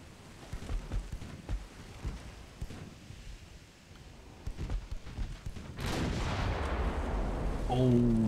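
Naval 4-inch guns in the warship game Ultimate Admiral Dreadnoughts fire in scattered, muffled distant thumps, followed by a louder burst of blasts and rumbling near the end.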